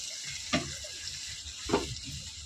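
Water splashes twice, briefly, into masala rice cooking in a hot pan, each pour setting off a burst of hissing over a steady background sizzle.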